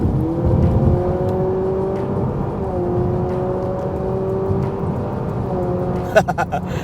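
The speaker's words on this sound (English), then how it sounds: "Well, that's the sound of the acceleration." A Honda Civic RS e:HEV hybrid in sport mode gives a steady, synthetic-sounding engine hum that rises gently in pitch as it accelerates, sustained throughout, with a few sharp clicks near the end.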